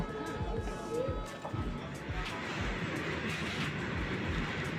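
Busy railway platform din: a low rumble and clatter of trains mixed with distant murmuring voices and general station bustle.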